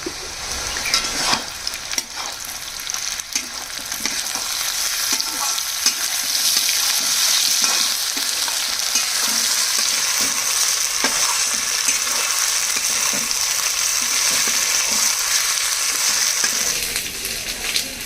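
Ginger garlic paste frying in a hot pan for a garlic chili fry, a steady dense sizzle with intermittent stirring scrapes that holds at a near, even level throughout, with no talking.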